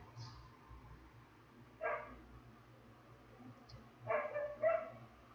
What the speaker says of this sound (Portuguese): Um cachorro aí no vizinho latino loucamente.